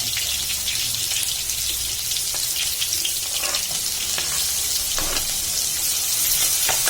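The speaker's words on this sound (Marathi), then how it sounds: "मिरच्या थोड्याशा तळल्या गेल्यानंतर आपण लसूण टाकूया" Garlic hits chillies frying in hot oil in a pan for methi bhaji, giving a loud, continuous close-up sizzle with a steady hiss and fine crackling throughout, with no voices.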